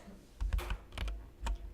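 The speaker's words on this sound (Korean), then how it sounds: "키보드 Alt를 누르고 갖다 대서 클릭합니다." Several quick plastic clicks and keypresses on a computer keyboard with an Alt key, spaced irregularly across a short stretch, close and fairly quiet.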